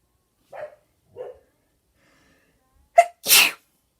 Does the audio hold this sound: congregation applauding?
no